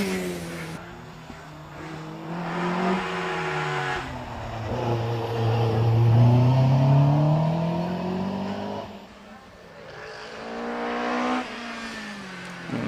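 Hillclimb race car on the Prescott course, engine rising and falling through gear changes as it sweeps past, loud and close before fading, then revving again at distance.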